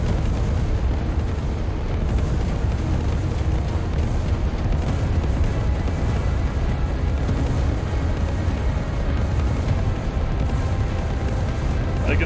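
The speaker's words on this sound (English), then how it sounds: "Glorious explosions." A continuous rumble of explosions and booms from rocket-propelled grenades against zombie swarms in a video game, dense and loud throughout with no pauses.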